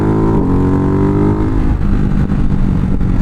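A single-cylinder motorcycle engine revs loud and close, its pitch sliding down through the revs before breaking into a rough, popping exhaust burble.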